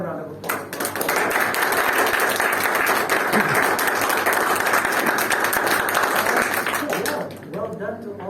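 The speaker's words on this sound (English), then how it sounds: "So another round of applause." Audience applause at a Toastmasters club meeting, a steady dense wash of clapping lasting about seven seconds at even loudness before fading, with some voices mixed in underneath.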